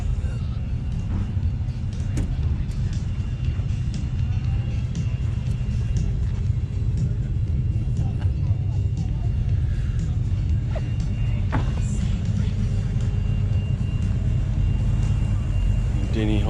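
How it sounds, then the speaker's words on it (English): A McLaren race car with a big Cosworth engine at Teretonga Park raceway produces a deep, sustained rumble throughout, with a commentator's voice faintly underneath. "Denny Holmes Yardley McLaren. Big Cosworth."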